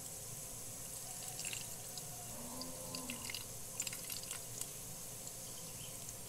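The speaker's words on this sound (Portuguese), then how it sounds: "eu vou colocar aqui a água da torneira aqui" Tap water runs steadily into a home sink, a constant faint hiss with a few light drips and splashes scattered through it, no voices.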